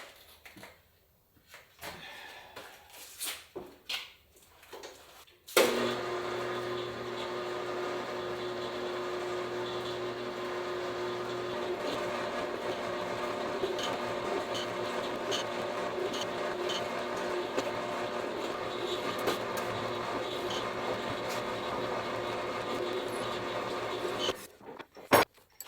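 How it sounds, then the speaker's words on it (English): Clattering and handling sounds, then a drill press starts and runs with a steady, loud motor hum for about twenty seconds before stopping abruptly. "Then over to the drill press."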